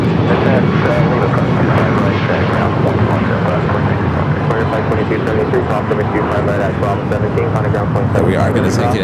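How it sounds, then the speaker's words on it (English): A Sun Country Airlines Boeing 737-800 in hybrid livery takes off with a loud, continuous jet roar that fills the whole stretch, while someone talks over it throughout. "Sun Country Airlines Flight 8501 heading to Kona to 737-800 in the hybrid livery. Going to be taking off here"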